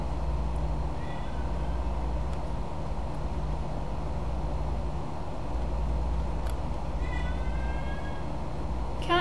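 A cat meows a few times in quick bursts late on, fairly clear over a steady low hum, with a few fainter cries earlier; a person talks now and then.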